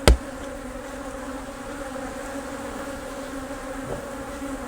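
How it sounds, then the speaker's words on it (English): Honeybees swarm across a freshly opened hive super, a steady close buzzing hum that holds for several seconds after one sharp knock at the start. "Full coverage of bees"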